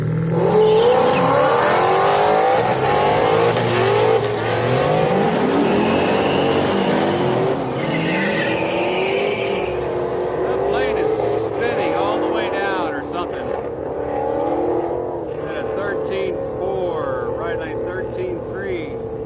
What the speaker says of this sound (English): So here we go, two BMWs.